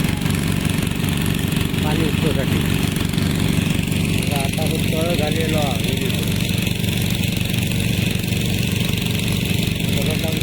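Two machine engines run steadily at a village well under construction, giving a continuous droning hum throughout while people talk over it.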